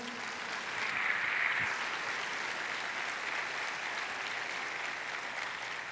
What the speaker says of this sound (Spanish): ¿Cuántos le dan un aplauso a Jesús por eso?